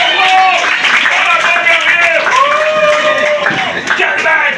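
Loud clapping from a group, mixed with lively shouting and cheering voices throughout.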